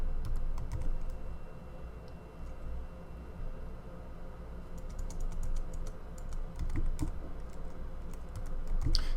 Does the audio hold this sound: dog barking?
no